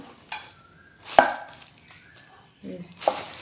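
Knife chopping pointed gourd and potatoes for an aloo potol curry: four separate crisp chops on a board, spaced unevenly, close and fairly loud, with quiet pauses between them.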